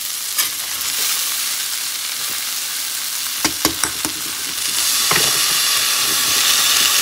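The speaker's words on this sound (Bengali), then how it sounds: "বন্ধুরা সবজিগুলো ভাজা হয়ে গেছে, এবার এর মধ্যে দিয়ে দেবো ধুয়ে রাখা বাকুইট।" Buckwheat and vegetables frying in a pan give a steady, loud sizzle and hiss, broken by a few sharp clinks of stirring and growing denser toward the end, with no voices.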